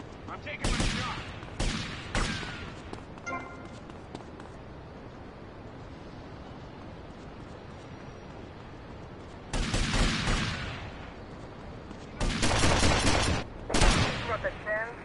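Gunfire in GTA Vice City, several sharp shots in separate bursts: a few quick cracks early, then louder clusters of rapid fire near the end, with a quieter stretch between.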